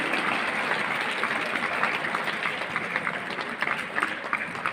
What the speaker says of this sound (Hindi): तालियों की गड़गड़ाहट गूंजती रही।